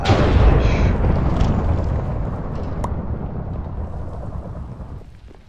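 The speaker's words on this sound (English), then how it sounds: "Dang, this thunder's loud." Loud, sustained rumbling thunder from a storm on the ship's decks in a murder-mystery video game, a heavy roll that slowly fades over several seconds with no talk.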